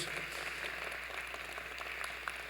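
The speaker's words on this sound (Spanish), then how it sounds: "Dale fuerte el aplauso a Dios." A church congregation applauds in a steady, dense wash of clapping that continues evenly without pause.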